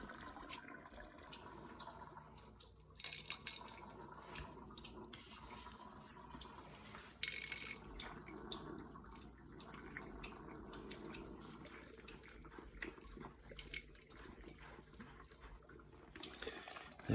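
Faint, steady water flow gushes continuously from a water heater being drained, with a couple of brief louder splashy bursts along the way.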